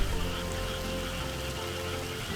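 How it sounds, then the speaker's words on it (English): Steady rain in a feudal rice farming video game, a dense even hiss of falling drops over the paddy fields, continuous and fairly close with no talk. "Cannot be helped, it's raining."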